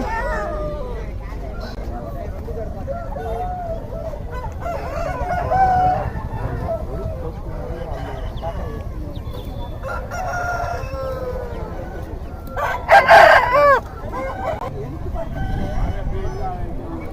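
Native country chickens and roosters at the Nallapadu market give loud crows and clucks amid a busy crowd, with people talking close by throughout.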